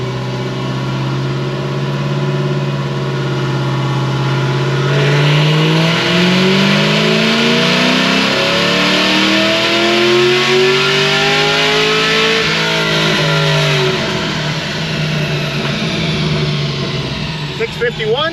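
A Whipple supercharged Chevy SS runs a dyno pull, the engine note climbing loud and close through a long rising rev before easing off, with supercharger whine above it.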